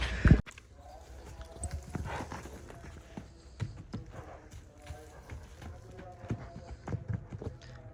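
A mare's hooves clop along at a steady walking pace on a farm, fairly close, with background chatter and outdoor noise mixed in.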